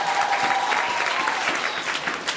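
A dense, steady round of applause from an audience at a youth teaching seminar, many hands clapping together close and loud throughout without a break.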